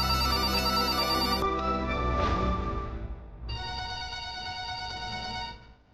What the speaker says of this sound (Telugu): కళ్యాణి, నీకే ఫోన్.